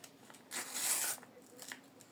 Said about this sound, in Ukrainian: І ми відкриваємо ось цей пакетик.